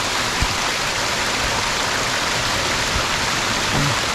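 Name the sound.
seasonal waterfall in a stream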